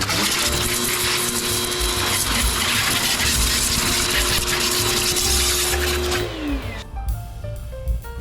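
A Predator 140 bar pressure washer sprays water in a loud, steady rushing hiss with a constant pump whine, cutting off abruptly near the end as the trigger is released.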